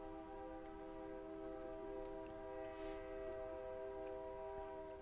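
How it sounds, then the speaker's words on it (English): A train horn sounds steadily from a distance as the train goes by, a sustained multi-tone chord lasting throughout under a constant rumble. "Does anybody else hear that train?"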